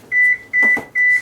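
Three short electronic beeps from an oven control panel, evenly spaced and close, with a faint thud or voice between the second and third.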